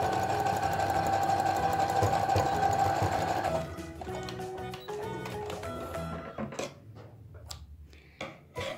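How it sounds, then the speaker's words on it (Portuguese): Domestic sewing machine stitching together two seams of a wrap-style circle-skirt dress, running steadily for several seconds, then slowing into short bursts and stops. "Agora, eu vou dar uma juntada nas duas costuras."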